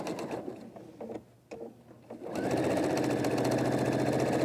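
A sewing machine stitches a quilt top seam, its needle running in a steady, continuous mechanical hum that starts after a few brief stops and starts, then carries on loudly and close up.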